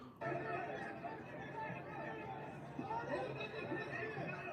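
A restless crowd in a video game mutters and murmurs in a continuous low hubbub of many overlapping voices, with no single speaker standing out.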